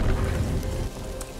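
Rain falls steadily in the survival video game Soulmask, a loud dense hiss with low rumbling beneath it that eases slightly toward the end, with no voices.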